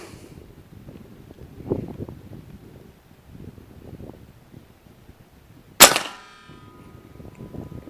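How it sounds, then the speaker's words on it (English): An airgun fires a slug into a pork loin target, giving one loud, sharp impact crack that rings out briefly amid faint outdoor wind and rustling. "Let me get the gun ready and we'll take some shots and see what happens."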